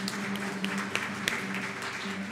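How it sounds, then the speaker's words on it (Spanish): Church congregation applauding during a Sunday Mass, a brief patter of clapping at moderate level with a voice speaking over it. "Mira, hermana Flori, un aplauso."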